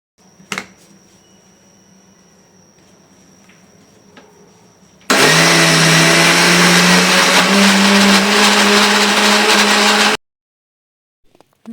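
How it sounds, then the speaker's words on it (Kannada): A mixer grinder churns soaked urad dal into vada batter, a loud, steady whirring drone lasting about five seconds after a quiet start with a few faint clicks, then cutting off abruptly. "ಇದನ್ನ ಕ್ಲೀನಾಗಿ ಒಂದು ಸಾರಿ ವಾಶ್ ಮಾಡಿಬಿಟ್ಟು ನಾನಿಲ್ಲಿ ಮಿಕ್ಸಿ ಜಾರಿಗೆ ಸೇರಿಸ್ತಾ ಇದ್ದೀನಿ"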